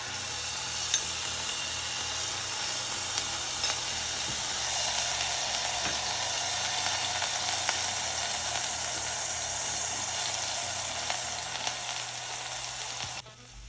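Blended Jamaican jerk seasoning frying in a pan while cooking oven-style jerk chicken, a steady, close, even sizzle that holds throughout, with a few faint clicks of utensils.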